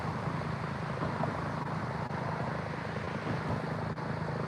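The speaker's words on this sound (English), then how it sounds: "Helicopter landing like" A helicopter landing at a nearby children's hospital helipad, heard outdoors as a steady, fairly faint broadband rotor and engine rumble with a low hum, unbroken throughout and free of speech.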